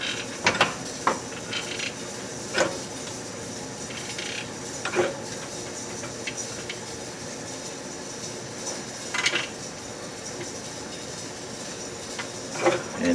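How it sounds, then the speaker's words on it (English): Mechanical jack raising a Porsche 944 during a Koni shock install, a series of separate ratcheting clicks and clunks spaced a few seconds apart over quiet workshop noise. "So we jack it up."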